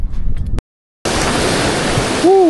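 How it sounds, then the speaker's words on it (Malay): Strong ocean waves at a beach fishing spot, a loud, broad roar of surf that fills the air after a brief cut, with a short tonal whine near the end. "Kuat ombak"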